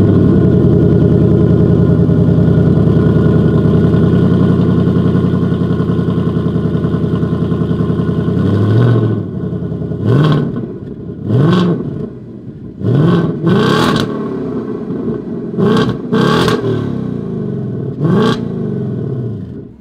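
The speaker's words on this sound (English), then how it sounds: "here is that exhaust clip" A 2024 Ford Mustang GT engine drones loudly and steadily for several seconds, then revs sharply in a series of bursts, the exhaust barking and falling back between each blip.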